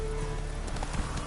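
Geralt's horse Roach galloping in The Witcher 3 video game, steady hoofbeats running continuously over a constant low background of game ambience and music.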